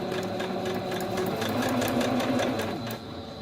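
A sewing machine runs steadily in straight stitch over fabric strips, a close, continuous mechanical whir with a rapid even patter that eases slightly near the end.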